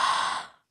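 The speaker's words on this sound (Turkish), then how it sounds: "Ağzımızı açıyoruz. Derin nefes alıyoruz." One deep breath taken through an open mouth during a guided breathing exercise: a short, airy rush of breath that fades out after well under a second.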